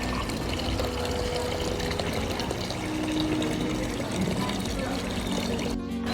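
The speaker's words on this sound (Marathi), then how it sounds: "तिथून छान पाणी वाहत आहे" Continuous splashing rush of water flowing through a decorative Ganpati display set, steady and fairly close, with indistinct voices faintly in the background.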